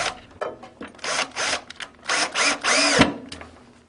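A power drill drives screws into a wooden pull-out pantry during installation, giving several short whirring bursts close by that rise and stop, with a brief click between runs.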